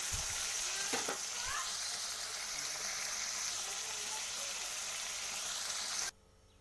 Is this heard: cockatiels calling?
no